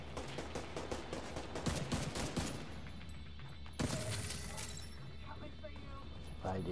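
Gunfire in Tom Clancy's The Division 2 co-op play: bursts of shots and a louder volley partway through, mixed with game noise and people talking over it.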